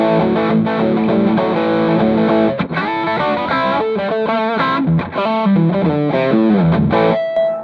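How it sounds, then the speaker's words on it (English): Electric guitar on its bridge pickup through a Devilcat Jimmy amp's overdrive, loud gritty distorted chords and single-note riffs played in phrases with short gaps, alone and up close. "let's go ahead and hear what the dirt sounds like on the bridge pickup on this guitar"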